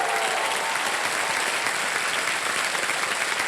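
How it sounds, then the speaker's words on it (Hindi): A KBC studio audience applauds a junior contestant and his family: a steady, dense wash of clapping from many hands, loud and even throughout without a break. "एक बार फिर तालियां बज जाए इनके लिए।"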